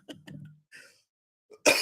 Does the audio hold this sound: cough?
yes